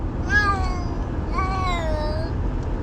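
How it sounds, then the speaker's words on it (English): A cat meows twice, two drawn-out, wavering cries close by with a short pause between them. "I can hear my cat meowing sometimes."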